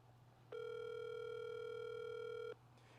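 A steady phone ringback tone sounds once for about two seconds while calling someone, a clear electronic beep with no talking over it.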